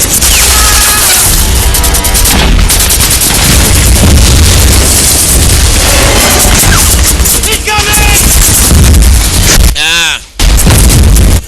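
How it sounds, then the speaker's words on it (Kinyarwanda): A grenade blast and surrounding combat in a dubbed action film make a dense, very loud barrage of booms, crashes and gunfire. A sharp detonation near the end follows a brief drop, and voices are mixed into the din. "Grenade!"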